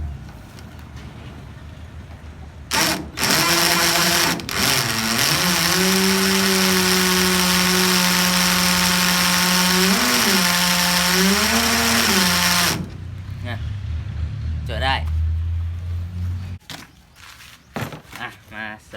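A 24-volt cordless drill whirs loudly and steadily for about ten seconds, its whine dipping briefly in pitch, after a couple of short bursts and before quieter scuffling.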